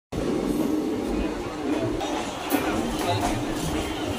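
A train pulling into Bolpur Shantiniketan railway station, a continuous loud rumble and rolling roar with faint crowd murmur, steady throughout with one brief louder bump.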